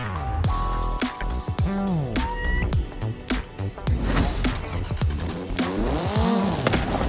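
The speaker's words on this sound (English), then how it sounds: "We're going to mess around in a car that sounds like a weed whacker." A car in the Forza racing video game with a buzzy engine like a weed whacker, revving up and down in rapid sweeps among loud tire squeals and skids, with game music and effects, no talking.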